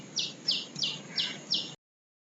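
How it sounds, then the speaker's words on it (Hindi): A small bird chirps five times in an evenly spaced, bright series of short calls, fairly close and clear over a faint room hiss, then silence. "C I am trying real hard कि ये चिड़िया की आवाज ना आए, बट वो आ रही है"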